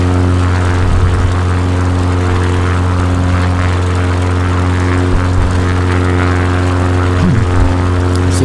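A propeller airplane engine drones in the Flight Simulator 2020 game, a loud, steady hum with constant tonal layers and no talk, flying over France.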